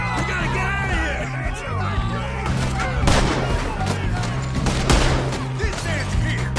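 Gunfire in Red Dead Redemption II, a chaotic western shootout with repeated sharp shots and a few heavier cracks rising over a loud, constant din, while voices shout and talk throughout.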